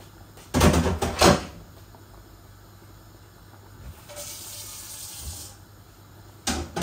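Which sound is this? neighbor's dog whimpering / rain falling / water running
water running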